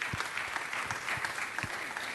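Applause at a city council meeting honoring a Korean barbecue restaurant owner, a room of people clapping steadily and moderately loud, with a few sharper claps standing out.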